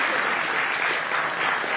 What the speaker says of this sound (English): can we have a round of applause as we welcome to the NDTV Profit Conclave